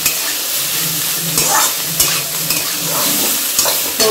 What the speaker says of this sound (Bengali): আর একটু ভালো করে নেড়ে নিয়ে আমি সবজিগুলো তুলে নেব।